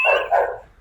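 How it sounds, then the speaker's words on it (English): A single dog gives one short double bark, close and loud. "I'm going to go make this dog be quiet"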